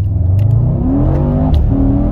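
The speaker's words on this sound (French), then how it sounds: "On se fait une petite accélération." Mercedes E-Class AMG 63 S in Sport Plus mode accelerating hard, the engine note climbing in pitch through a short, loud rev with a gear change partway, heard alone without talk.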